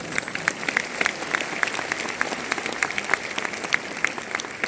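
An audience applauds at a meeting, a sustained wash of clapping with crisp individual claps standing out, moderately close and steady for several seconds.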